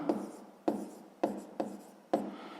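Five crisp scratching strokes of writing on paper or a board, each a short sharp rasp that fades, spaced at an even pace, close and quiet, with no voice.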